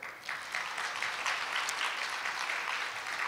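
A crowd applauds steadily at a new office software product launch, a dense, even wash of clapping that swells in and holds at moderate volume.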